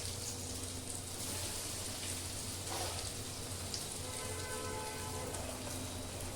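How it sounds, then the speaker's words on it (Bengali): Cheese crumb bread rolls frying in hot oil, giving a steady, dense sizzle that keeps going without a break and stays close and even in level, with no talking over it. "এই দেখো, এরকম ভাবে ভেজে নেব। হয়ে যাবে আমার ব্রেড রোল পুরো কমপ্লিট।"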